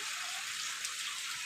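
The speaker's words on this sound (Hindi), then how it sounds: "देखो दिखाता हूँ, ये बारिश मुझे जीने नहीं देगी" Heavy monsoon rain pours down in a dense, even hiss, loud and continuous with no voices over it.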